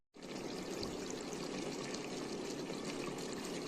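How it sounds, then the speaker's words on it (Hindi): Hot water poured into a pot of Kashmiri meat and onion curry, a continuous close splashing pour that starts abruptly and runs steadily to the end without pause. "अब इसमें जाएगा पानी।"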